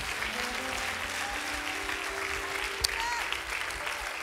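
Sustained applause from a church congregation at a Sunday worship service, a steady dense wash of clapping throughout with a faint voice and tones beneath.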